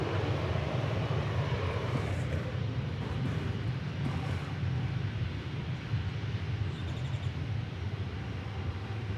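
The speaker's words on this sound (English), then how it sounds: "We have a Delta Airbus A320 arriving from Minneapolis, St. Paul" A Delta Airbus A320 arrives at DFW Airport as a steady, moderately distant jet rumble heavy in low tones, holding even throughout without speech.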